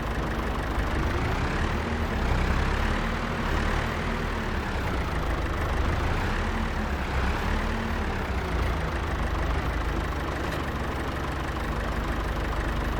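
Tractor engine in Farming Simulator 25 pulling an old, light cultivator, a steady low diesel drone with slight swells in load, continuous and without talk.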